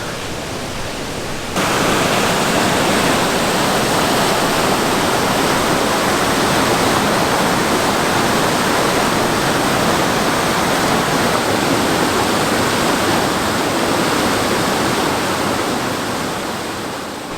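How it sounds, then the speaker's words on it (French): A powerful river rushes at Lac à l'Ours in Mont Tremblant national park, a loud, dense, continuous roar of churning water that fills the whole scene, close and steady with no voices. "Ça, c'était plus une rivière très forte qu'une chute, mais c'était vraiment impressionnant."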